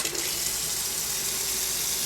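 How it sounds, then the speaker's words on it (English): Cold tap water runs steadily into an RO/DI filtration system, a close, continuous gushing hiss that stays even with no talk. "Alright, we'll go ahead and turn the cold water on."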